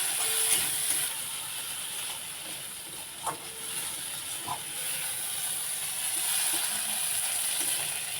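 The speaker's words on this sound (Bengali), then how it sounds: "দিয়ে দেবো হলুদ গুঁড়ো, দিয়ে ভালো করে ভেজে নেবো চিংড়ি মাছটা" Prawns coated in salt and turmeric frying in a pan, giving a steady sizzling hiss throughout with a few faint pops and clicks.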